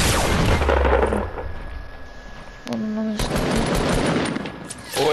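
Gunfire in the video game Fortnite, including sniper shots: rapid loud bursts and cracks up close, with a short pause before more firing, and a voice talking at times.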